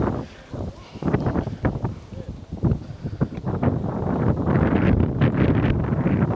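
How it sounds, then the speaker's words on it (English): Strong wind at a wildlife park buffets the microphone in loud, gusty rumbling bursts that build and stay heavy, with a voice speaking faintly underneath. "It's so windy."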